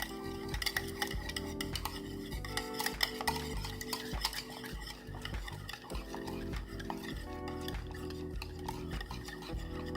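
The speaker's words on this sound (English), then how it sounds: "Then I'm gonna get my whisk" Homemade BBQ sauce being whisked in a bowl, a busy stream of rapid rhythmic clinks and scrapes of the metal whisk, close and steady throughout.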